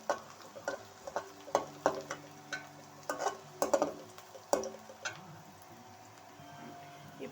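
Onions sautéing in a pan for keerai poriyal, heard as a run of close, irregular scraping and tapping stirs over a faint sizzle that thins out toward the end.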